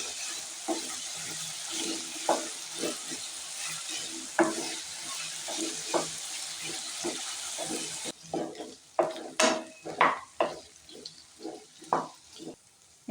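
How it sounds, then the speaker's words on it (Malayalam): Small diced potatoes from three medium ones frying in hot oil, a steady sizzle under rhythmic spoon stirs and scrapes, the sizzle dropping away partway while the clattering stirs grow sharper and louder. "എണ്ണ ചൂടായി ചെറുതായി കഷ്ണങ്ങളാക്കിയ ഉരുളക്കിഴങ്ങ് ഇട്ട് കൊടുക്കാം."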